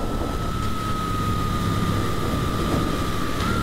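A 2023 Suzuki GSX-8S motorcycle accelerating onto a highway, a steady loud engine hum with a sustained tone under heavy wind rush, no voices.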